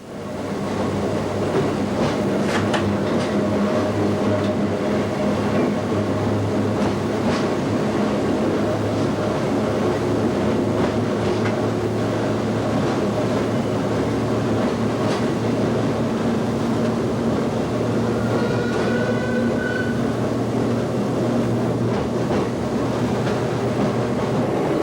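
London Underground battery locomotive L44 powers up along the rails at an Upminster depot open day, a steady loud drone of motor and wheels with rumbling low hum throughout and brief squeals near the end.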